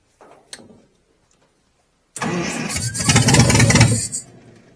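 An Allis Chalmers engine on a LeRoi 125 CFM air compressor cranks after a couple of small knocks, then catches and roars loudly for about two seconds before dying down.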